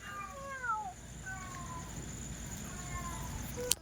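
A cat gives several soft, rising meows spaced across a few seconds, fairly faint, against steady rain on a wet night.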